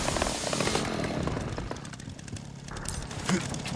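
A chainsaw in the video game Resident Evil Requiem revs with a loud, buzzing roar that starts strong and then settles into a rougher churn, with a voice talking over it.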